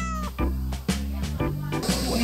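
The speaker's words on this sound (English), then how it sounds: "beware of the cat." A cat meows several times in a row, close and fairly loud. The drawn-out, wavering cries come at uneven intervals with no one talking.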